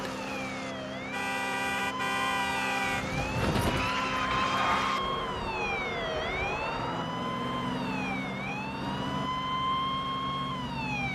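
A police car on an interstate highway sounds its siren loudly and continuously, switching from a steady rapid yelp to long rising and falling wails over road noise.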